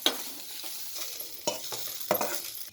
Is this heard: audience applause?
no